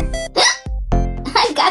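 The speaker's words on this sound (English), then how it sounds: "I got the hiccups." A cartoon character's hiccup bursts out between bits of sung or spoken voice, a sharp, close, loud hiccup standing out briefly from the surrounding talk.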